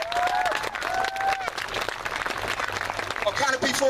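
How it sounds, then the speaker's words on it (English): A crowd applauds steadily throughout at an air festival at Duxford, a dense wash of clapping with a voice speaking over it and some whistling tones. "A massive round of applause."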